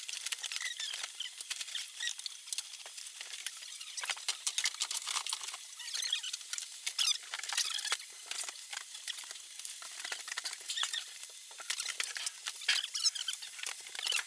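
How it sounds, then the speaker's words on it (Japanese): Mice or rats scurrying inside an old building, a faint, continuous light patter of tiny scratchy footsteps with no voices. "建物がちょっと古いせいか、トコトコトってなってるんですけど、ネズミが歩いてる音になります"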